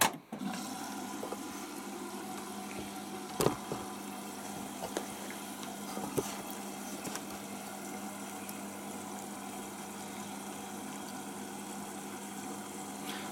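A Hotpoint Aquarius WML540G 6kg 1400-spin washing machine fills with water on a super wash cycle, giving a steady hiss and rush of inflow with a low hum, plus a couple of brief clicks early on.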